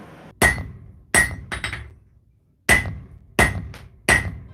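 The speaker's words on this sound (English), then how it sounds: "now I can start working on forging out the blade" Heavy hammer blows strike a steel knife blade being forged, five loud ringing impacts spaced unevenly about a second apart, each with a sharp metallic clang and a short decay.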